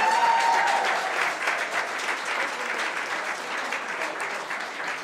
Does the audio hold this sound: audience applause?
yes